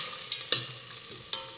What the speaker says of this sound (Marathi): हा टोमॅटो मिनिटभरासाठी परतून घेऊयात।